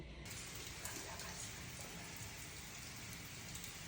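Steady rain falls in an empty park, a dense, even hiss of drops on surfaces that stays continuous and fairly close without a break.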